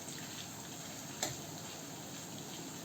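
Garam masala frying in a pan with chili, garlic and ginger: a steady, quiet sizzle with one brief sharper crackle near the middle, no voices.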